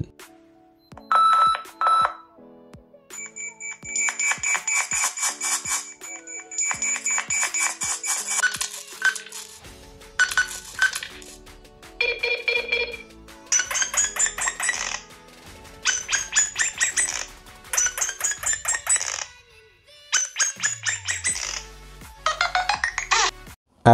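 Nothing Phone glyph interface ringtones play one after another, short chiming and beeping electronic patterns with clicks between them, each pattern repeating in quick rhythmic bursts, clear and close with no talking.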